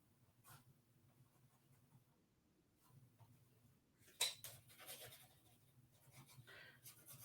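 Quiet, scratchy pen strokes scribble across paper in short intermittent bursts, close by and soft, with a slightly louder scrape midway.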